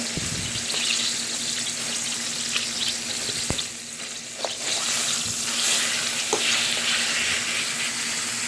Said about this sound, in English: So I'm going to turn the pork chops over.